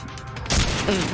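A shotgun blast in a first-person shooter video game: one loud, sharp burst erupts halfway through after a quieter stretch of background game noise, then trails into ringing ambience.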